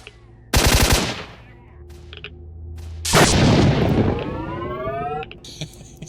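Gauss rifle fire in the video game S.T.A.L.K.E.R.: Shadow of Chernobyl, two loud, sharp electric bursts several seconds apart, each followed by a rising, whining charge-up and ringing tail.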